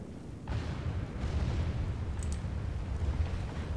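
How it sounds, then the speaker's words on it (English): Mortars and cannons fire in a Total War Warhammer battle against beastmen, a deep rumbling volley of booms that swells and rolls on as a low continuous roar, with no speech. "The mortars are going to be probably more accurate because I think they're shooting up and over."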